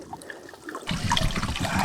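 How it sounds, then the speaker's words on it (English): Water trickles and splashes from a soil pipe in a small underground waterfall, starting faint and then swelling into a steady, close, gurgling flow. "Got a little waterfall under here."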